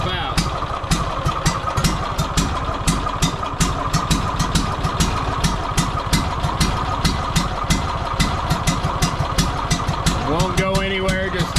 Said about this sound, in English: just kind of staying like it's choking itself out.